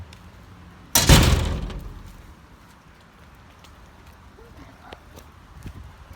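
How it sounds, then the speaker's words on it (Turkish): A single heavy door thud lands close by, its boom fading slowly into a quiet room with faint background noise. "Kapıyı örtelim."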